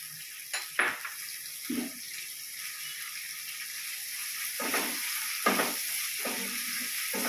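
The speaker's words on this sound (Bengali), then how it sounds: "এবার আমি দেবো পেঁয়াজ বাটাটা দিয়ে দিলাম তেলে" Onion paste frying in hot oil for a prawn curry, heard as a constant soft hiss with occasional utensil clatters and stirring scrapes close by, without speech.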